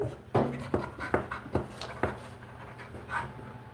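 An anxious dog close by, panting in a series of quick breathy puffs with soft whimpers mixed in, heard indoors alone without talk.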